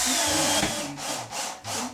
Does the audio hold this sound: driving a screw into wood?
yes